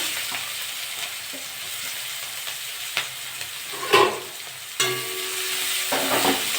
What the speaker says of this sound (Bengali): জিরিটা ভাজা ভাজা হয়ে গেছে আমি পেঁয়াজ দিয়ে দেবো